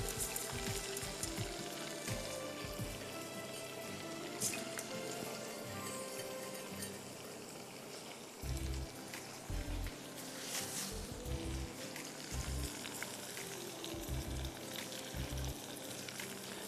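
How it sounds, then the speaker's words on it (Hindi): Spaghetti frying in batches in cooking oil: a steady, soft sizzle and crackle runs throughout, punctuated by occasional louder clinks and stirring knocks, fairly quiet and close with no talking. "2-3 बैचेस में फ्राई करिएगा शाताज कुकिंग ऑयल में।"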